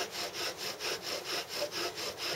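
A wooden bow drill spinning in a notch: steady back-and-forth rasping strokes, about four per second, close and even, with each stroke swelling and fading in a regular sawing rhythm.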